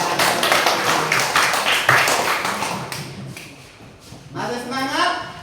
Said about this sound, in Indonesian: tepuk tangan untuk penonton